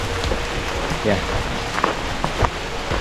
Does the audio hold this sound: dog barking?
no